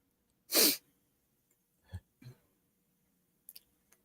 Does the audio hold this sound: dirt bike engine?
no